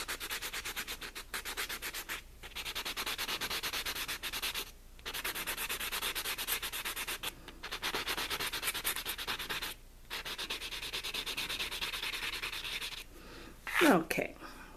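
Steady rhythmic sanding strokes on fingernails, filing the surface rough before nail stickers go on; close and continuous, with brief pauses between passes and a short scrape near the end.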